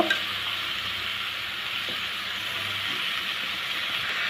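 Malabar spinach seeds are stirred into spices in hot oil, giving a steady, soft sizzle with faint scraping from the stirring underneath.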